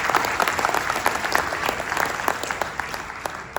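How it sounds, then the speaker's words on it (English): Audience applause at a Republican Party of Florida annual meeting, a steady crowd of clapping hands sustained for several seconds, fairly close and even, with no talking over it. "Give him a round of applause."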